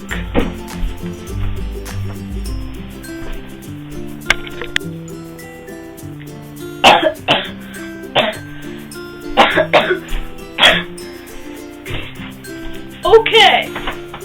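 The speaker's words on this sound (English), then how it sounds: "I've been coughing all day." A person coughs in a series of sharp, rough bursts, several clustered close together, over a soft steady musical background.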